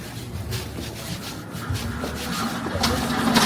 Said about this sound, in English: the man scrapes his trolley with a pallet across the pavement